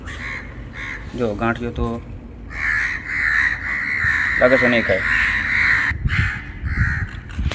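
Crows perched on an electric light pole give repeated harsh caws in close bursts, layered over a steady outdoor background while someone talks through much of the sound.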